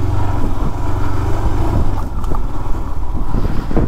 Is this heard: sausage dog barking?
no